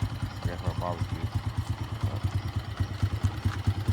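A BD125 125cc motorcycle engine idles low and steady at night, with a rapid, even low putter that runs throughout while someone talks over it.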